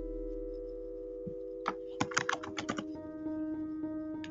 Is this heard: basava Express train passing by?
no